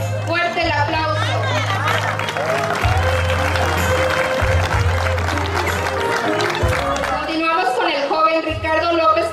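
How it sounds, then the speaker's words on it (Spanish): Crowd applause at a quinceañera celebration as a couple is introduced, steady clapping and cheering throughout with a strong low bass beat of party music underneath and crowd chatter. "fuerte el aplauso"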